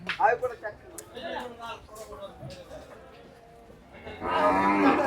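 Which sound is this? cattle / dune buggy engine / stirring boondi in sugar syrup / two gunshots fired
cattle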